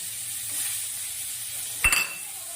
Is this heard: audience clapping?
no